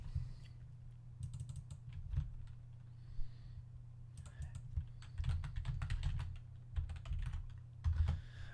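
Rapid keystrokes on a computer keyboard come in bursts of clicks and taps against a low steady hum, with short pauses between runs of typing.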